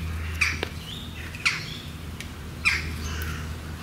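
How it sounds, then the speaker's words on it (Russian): Jackdaws and crows call at a zoo, three sharp squawking cries spaced a second or so apart over a low steady hum, fairly near and clear with no talking. "Скорее всего, это галки и вороны, которых здесь в избытке."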